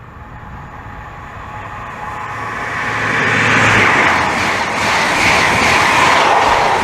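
A Great Western Railway express train passes at speed on the main line at Maidenhead, a loud rushing roar with wheel noise that swells and stays strong as it goes by, with no voices.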